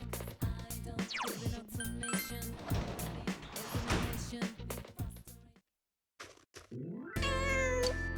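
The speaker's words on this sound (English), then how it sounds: "There's a cat." A cat meows in the video game Persona 4 Golden, the mewing mixed into busy game music and effects, followed by a short pause and a chime-like tone.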